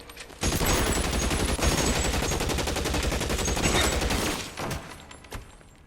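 Sustained rapid gunfire in a shootout in the video game L.A. Noire, loud and dense bursts for several seconds that then thin into a few scattered shots.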